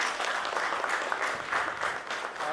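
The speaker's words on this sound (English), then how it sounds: "Let's give Ms. Mohanty a huge round of applause." An audience at a procurement leaders summit panel applauds, a short burst of dense clapping from a moderately sized crowd heard at a slight distance.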